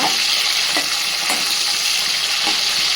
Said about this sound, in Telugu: ఇప్పుడు మనం దీనిలో వెల్లుల్లి కూడా వేసుకొని వేగనివ్వాలి